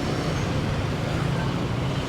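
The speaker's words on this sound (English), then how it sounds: "Too much traffic." Dense road traffic rumbles steadily at a busy junction by Soi Buakhao in Pattaya, a close continuous roar of cars, buses and trucks with engine drone.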